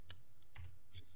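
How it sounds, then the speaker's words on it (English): A few sparse clicks of a computer keyboard being typed on during a Minecraft gaming session, spaced irregularly over a low steady hum. "I'm typing it."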